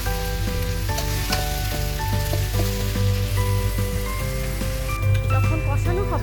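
Hog plum pickle fries with cumin and coriander in a pan while being stirred, a steady broadband sizzle running under prominent background music.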